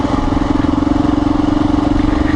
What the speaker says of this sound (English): I just ride it down in second or third here and let the engine do some braking